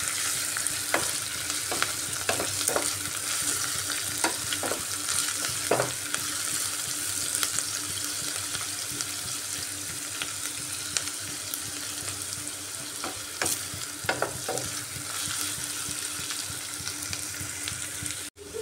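Chopped onion frying in a pan for a chicken and bottle gourd curry, a steady close sizzle broken by occasional sharp clicks and scrapes of stirring, with no voices.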